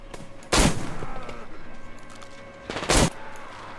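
Gunfire in the video game Metro Exodus: two loud, close bursts of shots about two and a half seconds apart, each a quick cluster of cracks over a low rumbling game background.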